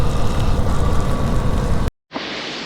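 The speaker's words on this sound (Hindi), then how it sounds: "बारिश जो है तेज़ होने लगी है बहुत" Heavy rain hisses loudly and continuously during a motorcycle ride on the road from Delhi to Narkanda, a dense wash that cuts out abruptly, then resumes more thinly.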